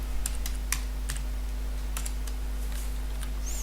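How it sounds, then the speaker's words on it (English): Several quick computer keyboard keystrokes tap out a search in short irregular bursts, close and crisp over a steady low electrical hum. "If you go there and if you just type Kenneth Humphrey,"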